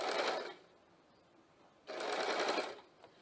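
A home sewing machine stitches dori piping in two short, close bursts of rapid whirring separated by a quiet pause of about a second.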